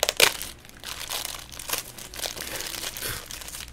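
Bubble wrap packaging around Five Nights at Freddy's Security Breach mystery minis crinkles and crunches in irregular close bursts, with a sharp crackle at the start and softer rustling after.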